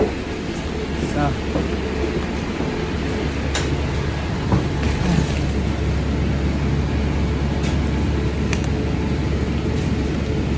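Riding a city bus: a continuous low engine rumble and road drone fill the cabin, with occasional rattles and a faint high squeal, while someone talks over it.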